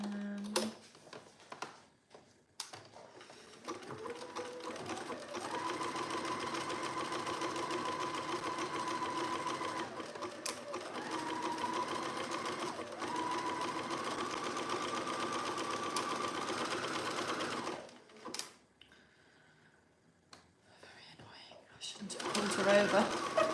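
A sewing machine sews a sweatshirt seam in one long continuous run lasting most of the time. It is moderately loud and stops near the end, with a little quiet movement before and after.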